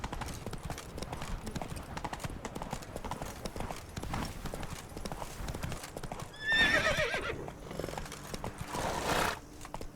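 Roach the horse galloping in The Witcher 3, rapid rhythmic hoofbeats continuing throughout, broken by two loud whinnies, one around the middle and one near the end.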